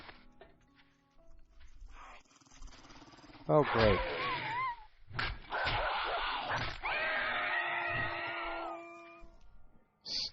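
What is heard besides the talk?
dogs growling in 7 Days To Die video game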